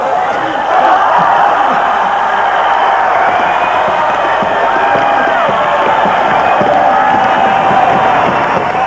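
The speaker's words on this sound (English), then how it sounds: "Another round of applause for the girl." A big crowd at a skateboarding competition cheers and whoops continuously, loud and sustained, with some shouting mixed into the roar.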